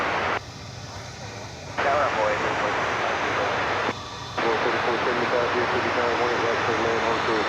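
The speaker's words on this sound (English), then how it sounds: "American Flight 304 is coming in from Birmingham next. We'll be in Airbus A320." An American Airlines Airbus A320 jet arriving from Birmingham on landing at Dallas Fort Worth airport: a steady, loud engine roar heard from an outdoor spotting spot, interrupted twice by short bursts of radio chatter with a muffled, band-limited tone.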